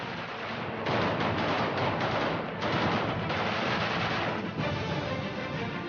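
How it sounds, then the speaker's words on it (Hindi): Machine gun fire at a wedding celebration in India, a dense continuous rattle of rapid shots that surges and overlaps in loud sustained bursts for several seconds. "क्या मशीन गनों से एक साथ गोलियों की तड़तड़ाहट होते देखी है?"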